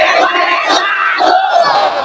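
A crowd shouts a takbir chant at an Islamic waz gathering held at a hafizia madrasa and orphanage: a loud, dense roar of many voices, sustained throughout with slight swells.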